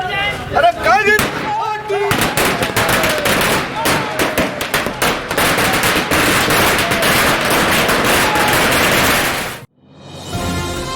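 Fireworks and firecrackers at a political victory celebration outside a house in Varanasi, a loud, dense rapid crackle of bangs lasting about ten seconds before cutting off, with crowd voices mixed in.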